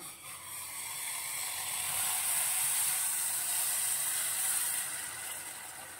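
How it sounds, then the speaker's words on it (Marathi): Boiling water poured onto rice that has been roasted in ghee for Marathi jaggery coconut rice gives a steady, close hissing sizzle that swells and then eases over several seconds, with no talking. "यामध्ये आपण कडकडीत गरम झालेलं उकळी आलेलं पाणी घालूया"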